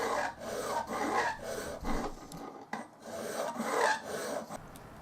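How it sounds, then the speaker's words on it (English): Hand files rasping across metal parts of an antique lock loop, with round, triangular and flat files used in turn; steady rhythmic back-and-forth strokes, close and fairly loud, with brief pauses between passes. "I used the round file to create the profiles of the internal curves, and then I used the triangular and the flat files to flatten out the rest of the metal"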